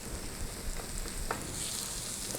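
Sausage and garlic frying in a pan while being stirred, a continuous close sizzle with soft scraping and stirring sounds on top and no talking.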